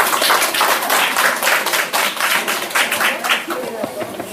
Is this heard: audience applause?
yes